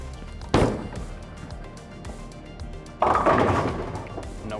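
A Storm Nova bowling ball is released onto the lane with a heavy thud, then rolls with a low rumble before a second loud impact crashes in around three seconds. No speech is heard.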